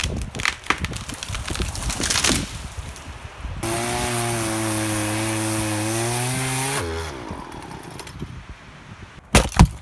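A chainsaw cuts through a felled tree for firewood, its engine holding a loud, steady whine for about three seconds before winding down. Rustling and knocking noises of the work come before and after the cut.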